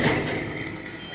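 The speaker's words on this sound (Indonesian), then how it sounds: "ini ada truk trailer rela mundur demi menarik truk cold diesel" A trailer truck backs up with its reversing alarm beeping steadily over a loud, continuous diesel engine rumble, no voices.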